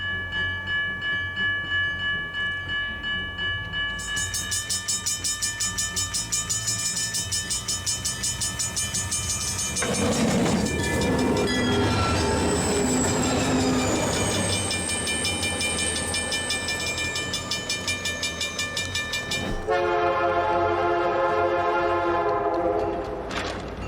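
A train running on rails with a steady rumble and rhythmic clatter of wheels, horn-like tonal lines held throughout, swelling louder midway as it passes close, then a bright ringing tone near the end; no talk.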